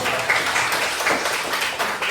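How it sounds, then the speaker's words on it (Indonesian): A class in a coding and artificial intelligence training session applauds for a student named Tiara, giving a brief burst of dense, even clapping from a group of hands at moderate loudness with no talk over it. "Tepuk tangan untuk Tiara"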